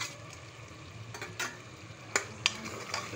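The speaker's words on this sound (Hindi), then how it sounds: "इसको भी मैं भून लूँगी" Chopped tomatoes frying with cumin and masala in a pan, a soft steady sizzle with a few sharp scrapes and clinks of stirring near the end.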